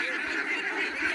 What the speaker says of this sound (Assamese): ইয়াতে 500 ডাক আছে পিয়ৰ পাৰ্টি হাঁহ